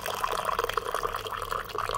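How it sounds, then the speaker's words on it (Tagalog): Hot water pours into a drinking glass for a home cough remedy, a steady close trickle and gurgle filling the glass, heard alone without talk. "At lalagyan ko po siya ng mainit na tubig."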